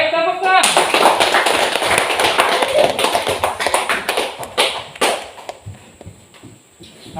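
A classroom of students bursts into brisk, loud clapping that carries on for several seconds and then thins into a few scattered claps as it fades, with talk in the room around it.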